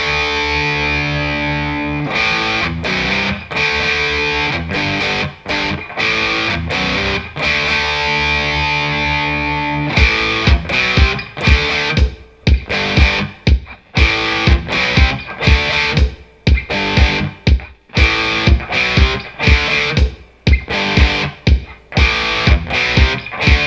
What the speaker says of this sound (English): the rhythm guitar part sounds like this